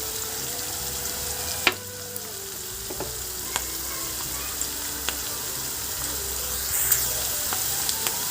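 Curry leaves and tempering spices sizzle in hot oil for carrot rice, a steady frying hiss with occasional sharp pops and clinks of a stirring spoon, fairly quiet with no voices.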